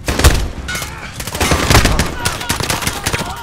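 Rapid machine gun fire rattles through a Call of Duty battle, sustained loud bursts of shots with booming reports, voices faintly mixed underneath.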